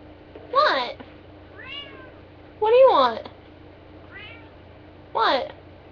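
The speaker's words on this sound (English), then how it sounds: "I don't know if you can hear this, but my cat's arguing with me." A cat meows three times in drawn-out, rising and falling calls, close by, with quieter chirpy sounds between them.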